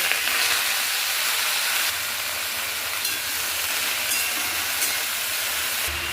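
Water lily stems being fried with a black cumin tempering in a pan, giving a steady broadband sizzle with a hissing wash that holds at an even level for several seconds, with no talking.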